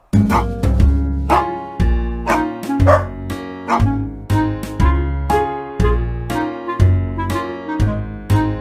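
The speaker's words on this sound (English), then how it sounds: "I hear a dog, dog, dog, dog, dog." A dog barks loudly and repeatedly in a steady rhythm, with a yelping, whining edge to the barks.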